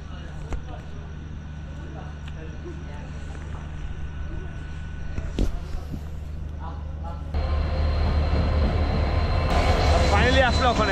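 A train pulls into a station, with a low rumbling drone and a sharp clank midway that swells louder and denser near the end, under light background talk.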